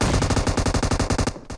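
Automatic gunfire in the mobile shooter BGMI, a dense rapid burst of loud close shots in steady machine-gun rhythm, briefly pausing near the end before another shot.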